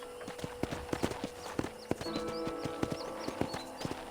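Horse hooves clip-clopping steadily on a ranch in the Red Dead Redemption video game, with an even trotting rhythm up close and faint bird chirps in the background.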